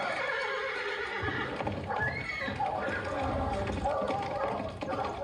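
A horse whinnies amid galloping hooves in a stage-play sound effect for a Baskerville production, ringing out over a dense, steady bed of noise with voices mixed underneath.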